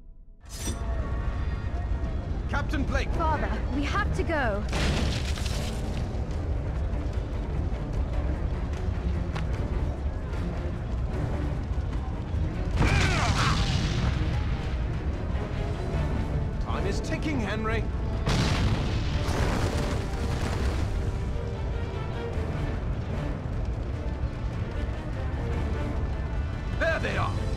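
Deep booming cannon blasts in the Android game Backstab, several heavy bursts spread across a busy game soundscape, with voices speaking in between.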